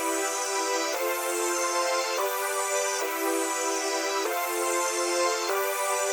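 Two synth presets, one from Electra, are stacked in FL Studio into a thick chord layer. Sustained chords change steadily about every second, each with a bright sweeping top and a slightly percussive onset, playing alone without voices.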